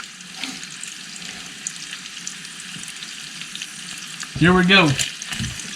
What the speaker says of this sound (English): We got that bacon flip, baby. Look at that. Hear that sizzle?